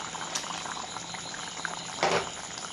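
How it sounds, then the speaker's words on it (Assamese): Fish curry bubbling in a pot, a continuous close simmering gurgle with a couple of louder pops and splutters, no talk. "এয়া চাওক, ধুনীয়াকৈ উতল আহি আছে"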